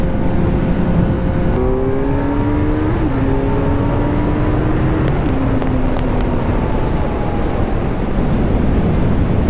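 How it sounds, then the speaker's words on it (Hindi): A Kawasaki Z900 and a Yamaha R15 accelerate hard, their engine tones climbing through gear changes under steady, loud wind roar with no talking. "शुभम अपने R15 पे थोड़ा भगाते हैं।"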